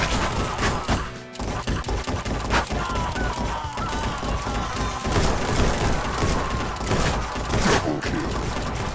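Rapid twin-pistol gunfire in the VR shooter Guns 'n' Stories: Bulletproof, dense overlapping shots crackling steadily over busy game music and effects, loud and close throughout.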